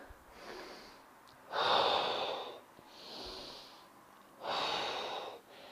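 Deep diaphragm breathing during a bending stretch: a few slow, drawn-out breaths, with two louder, airy exhalations of about a second each alternating with softer inhalations, close and without speech.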